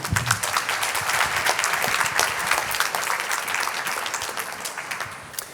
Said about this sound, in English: you can applaud them again